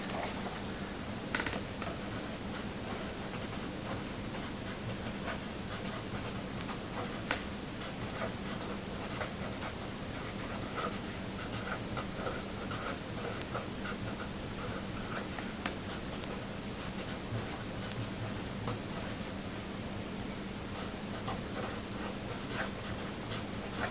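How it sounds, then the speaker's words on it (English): Handwriting, a pen or marker scratching steadily on a surface while explaining the periodic table; faint continuous scratching with small taps over a hissy background, no talking. "Let me write that down"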